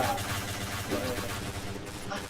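Bursts of gunfire in the shooting video game Point Blank rattle in quick succession through a muffled, busy game mix, with faint background voices.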